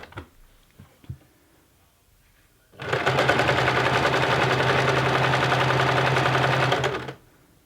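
A sewing machine runs in one sustained burst of fast, even stitching on a honeybee cushion, loud and close for about four seconds after a few quiet handling clicks.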